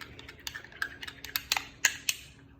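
A spoon clinking and tapping against a bowl while stirring homemade fingerpaint tinted with food coloring, a series of light, quiet, irregular taps.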